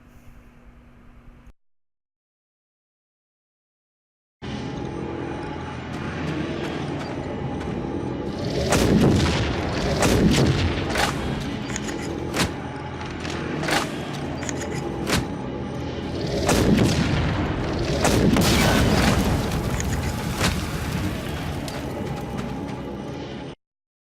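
After a short quiet gap, a proto suit plasma cannon fires loud blasts in irregular bursts over a dense, roaring video game battle din, close and heavy.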